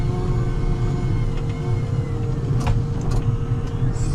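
Low steady electric drivetrain hum and rumble from a Volvo L120 electric wheel loader working its hydraulics to move the scoop, close and continuous, with a few brief clunks and hisses.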